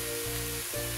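Soy sauce pours into a sizzling chicken and vegetable kabab mixture in a hot pan, giving a steady, close frying hiss that holds for about a second with a brief dip partway through.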